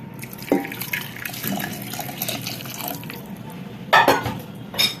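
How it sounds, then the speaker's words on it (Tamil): Short splashes and gurgles of water poured into a thick mashed lentil mixture, a few bursts close by with quiet gaps between. "இந்த தண்ணி அதில் ஊற்றிக்கும்"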